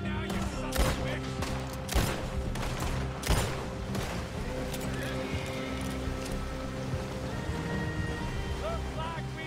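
Gunfire cracks in a shootout near a river in Red Dead Redemption 2, several sharp shots in the first few seconds over a steady rumbling bed of hooves and movement, with voices talking.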